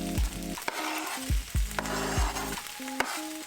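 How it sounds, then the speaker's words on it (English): Chicken pieces frying in a pan with onions, capsicum, garlic paste and curry powder, a steady sizzle broken by several sharp clanks and scrapes of a utensil stirring against the pan, close and fairly loud. "I'm going to add some chicken to the pan and let that cook on its own for a little bit"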